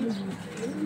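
A pair of Maxi racer pigeons, a hen and a cock, giving low soft coos, close by and brief, without talk.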